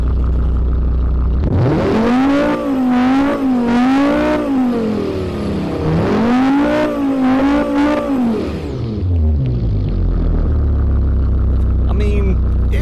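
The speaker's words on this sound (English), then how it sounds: "It's a good sounding car, good sounding engine, good amount of power" Car engine in BeamNG Drive, running without silencers, revved hard twice: a loud, close, droning roar that rises and wavers through each rev and then drops back to idle, with speech over parts of it.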